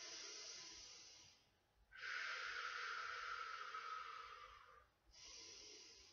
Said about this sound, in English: Do another breathe. Deep breathing.